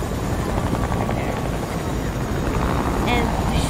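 A video-game helicopter drones loudly and continuously with a dense rotor roar that fills the whole stretch, while a voice talks faintly over it.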